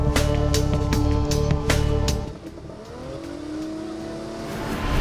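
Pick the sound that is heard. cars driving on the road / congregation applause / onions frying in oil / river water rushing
cars driving on the road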